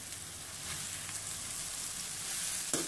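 Keema chicken filling with garam masala and dried pomegranate seeds frying in a pan, a steady close hiss of sizzling oil with a brief clatter of stirring near the end.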